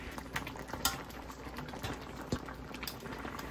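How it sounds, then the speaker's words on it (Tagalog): Shrimp bubbles in a pot of buttered garlic seafood sauce with corn, a soft steady simmer of small pops and crackles, quiet and close, with no talk. "Papakuluan ko naman siya ng 3 to 5 minutes."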